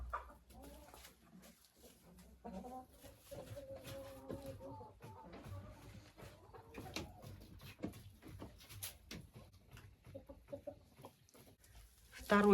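Crested hens cluck faintly in an enclosure, soft and scattered throughout, with a person talking quietly over them.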